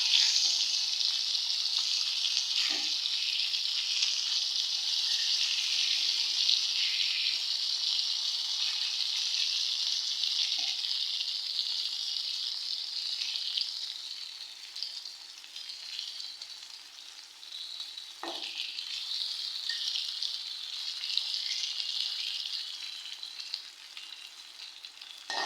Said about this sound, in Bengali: আলু ভাজা হয়ে গেছে, এখন ওই যে আমি নামাইতেছি